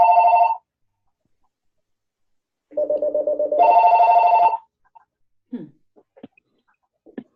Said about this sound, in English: If someone who has their phone ringing could just mute themselves quickly.